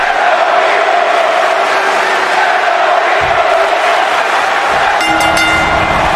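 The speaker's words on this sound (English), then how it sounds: "Roxanne Perez is being booed here tonight by the crowd" A loud, sustained arena crowd roars and boos a wrestler in the WWE 2K25 game, a dense steady wash of voices with a brief rise of noise near the end.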